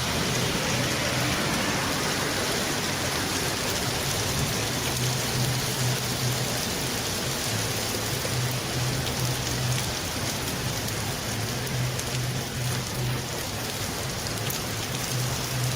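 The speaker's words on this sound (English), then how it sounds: "Now there's hail." Hail and heavy rain pour down during a storm in Moscow, a dense continuous drumming and hiss that runs loud and unbroken throughout, with a faint low hum pulsing underneath.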